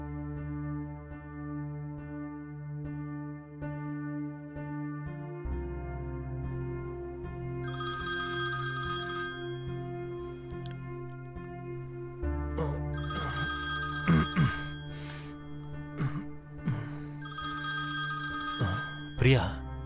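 A telephone rings in a quiet indoor scene, its electronic bell repeating in regular bursts over a sustained tonal hum, clearly heard and fairly close, with background sounds between the rings.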